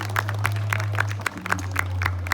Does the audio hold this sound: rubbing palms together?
no